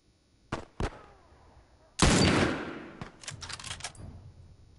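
A sniper rifle shot rings out loud and sharp in The Last of Us grounded mode, preceded by two smaller clicks and followed by a long decaying report and scattered clatter.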